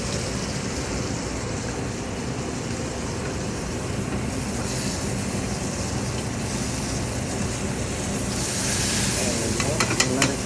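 Steak cooking in a hot pan, seasoned with salt, pepper, garlic and thyme, gives a steady dense sizzle that runs throughout and swells slightly louder near the end, with no talk over it.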